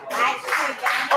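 Applause from an audience at a comedy fundraiser show, a dense patter of many hands clapping in waves that swell and dip over a second or so, fairly close and steady.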